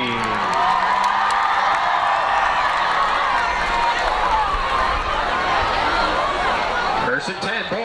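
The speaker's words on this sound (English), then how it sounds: "Make some noise for your Herricks Highlanders cheer team." Loud high school crowd cheering and whooping for the Herricks Highlanders cheer team at a homecoming pep rally, a dense roar of voices and clapping that holds steady before dropping off near the end.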